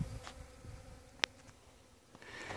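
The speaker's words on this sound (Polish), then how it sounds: "I wszędzie widać te małe pszczółki." Soft, faint buzzing of bees flying around a rapeseed field, with a brief sharp click partway through and quiet outdoor background.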